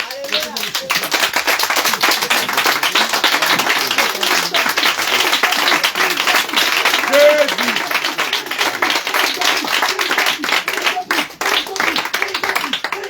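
A church congregation bursts into sustained loud applause and cheering, dense rhythmic clapping with voices shouting acclamations throughout.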